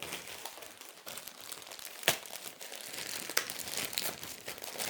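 Crinkling and rustling of packaging as a well-wrapped cross-stitch package is unwrapped, a continuous close crackle with a couple of sharper snaps, no talking.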